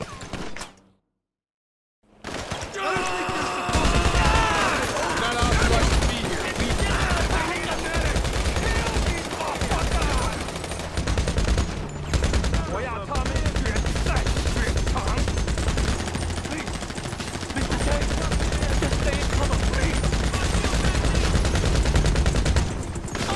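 Sustained bursts of automatic gunfire and scattered shots rattle loudly through a GTA Online casino mission firefight after a short silent gap, with voices shouting over the dense shooting.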